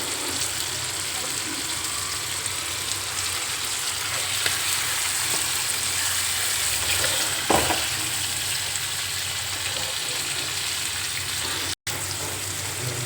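Chicken frying in a pan as it is stirred, a steady close sizzle running throughout with one brief louder scrape or clatter partway through.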